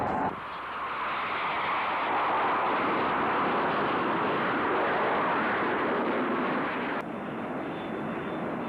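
Golden Hawks fixed-wing aircraft fly in formation at an air show, a loud, steady broadband engine roar sweeping overhead for the whole stretch and easing slightly near the end.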